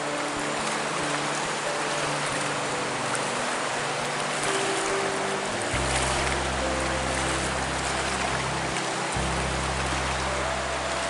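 Light drizzle falling beside a large river at a bushcraft camp, a steady soft hiss of drops over the river's flow, with a low hum coming and going underneath and no talk.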